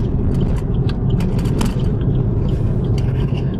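A car braking to a stop during a driving lesson, with a steady low engine and road rumble and some scraping tyre noise, close and continuous with no talk.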